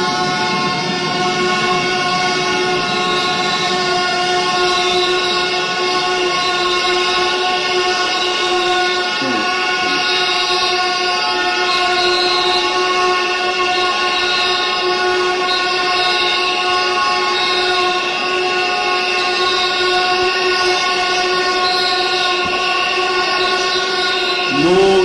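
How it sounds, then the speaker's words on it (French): Members of parliament blow whistles in protest, a loud, dense and sustained chorus of shrill tones that fills the hall without pause, with faint crowd noise beneath. "nous allons accorder 3 minutes à ceux qui veulent siffler"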